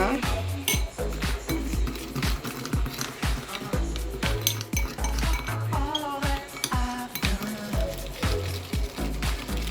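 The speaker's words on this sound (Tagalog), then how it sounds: "I-mix up na natin siya." A spoon stirs and scrapes coffee scrub ingredients in a bowl, with steady clinking and tapping strokes in a repeated rhythm, moderately close, with a voice speaking over it.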